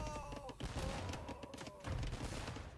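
Bombard Cannons fire in a video game battle, a rapid volley of booming thuds and cracks in bursts. A commentator talks over the gunfire throughout.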